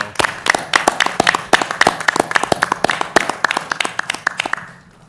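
A small group claps in a city finance committee meeting room, with sharp, fairly quick claps close by that keep a steady beat for about five seconds before tapering off.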